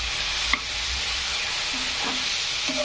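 Sliced onions frying in a pan until golden, giving off a steady close sizzle with a few sharp spatula clinks against the metal.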